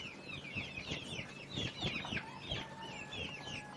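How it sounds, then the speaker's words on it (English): A mixed backyard flock of Brahma, Plymouth Rock and Rhode Island Red chickens clucking and chattering continuously, several birds calling at once with overlapping short clucks and squawks at moderate distance. "What we have here is a mixed flock of Brahma, Plymouth Rock, Rhode Island Red"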